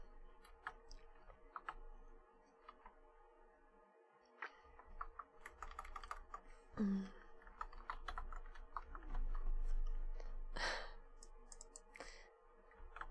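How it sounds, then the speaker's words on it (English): Computer keyboard typing while working on code for a chat-controlled robot arm: scattered key clicks and short bursts, close by, with a low background hum and a few louder knocks; no speech. "I think I pressed 2 keys at once."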